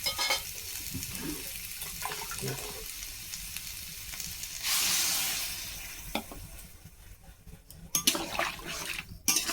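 Water poured into a pan of papaya and shrimp legs frying with turmeric brings a loud hissing surge of sizzle midway, set against steady frying crackle and a few clinks of utensils.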